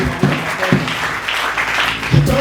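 A church congregation at a Sunday service claps loudly and steadily, a dense wash of applause with voices mixed in and a few louder bursts.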